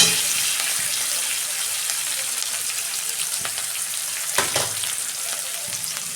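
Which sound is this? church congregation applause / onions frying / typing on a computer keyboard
onions frying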